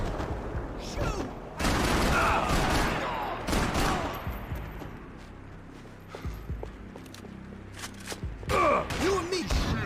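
Gunfire in Max Payne 3 comes as clustered loud shots and bursts mixed with shouting voices and game sounds, with heavy volleys early in the stretch and scattered shots later.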